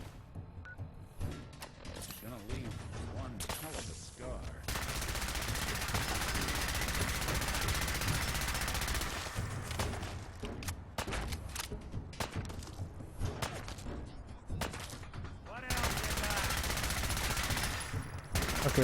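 Gunfire from bandits in the video game Fallout 4 Far Harbor, dense bursts of shots and rattling fusillades running throughout, loud and continuous with a few brief pauses, over game sounds.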